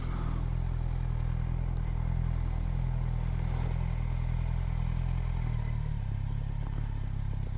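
A Kawasaki Z1000SX motorcycle engine runs steadily while riding, a loud, close, low rumble with constant clatter and rushing wind noise, no talking.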